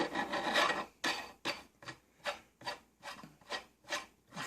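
A metal nut grinds and rasps as it is screwed onto a sausage grinder, a steady series of about eight rough scraping strokes, close and fairly quiet.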